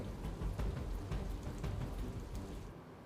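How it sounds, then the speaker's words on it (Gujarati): Heavy monsoon rain pours steadily onto waterlogged village streets and a flooded town square, a dense, even hiss with low rumbling underneath, fading slightly near the end. "ભારે વરસાદને કારણે રસ્તા પર નદીઓ જેવા દ્રશ્ય સર્જાયા છે"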